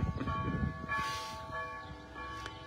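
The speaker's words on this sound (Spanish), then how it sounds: "Ahí están sonando las campanas de la Iglesia Católica." Catholic church bells ring faintly in the distance, a few soft peals with a lingering hum and no talk over them.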